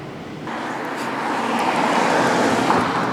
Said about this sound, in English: There's another bus, double-decker.